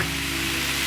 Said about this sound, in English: season it with some salt and pepper and continue frying it